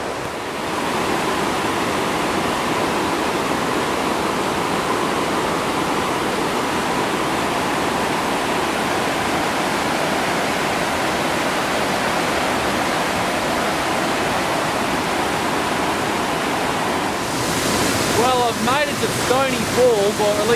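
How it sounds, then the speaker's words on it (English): Creek waterfall in flood after snow, the lower fall pumping with a heavy volume of water: a loud, steady roar of rushing water throughout, with a few seconds of louder splashing and turbulence near the end. "there is a serious volume of water coming down"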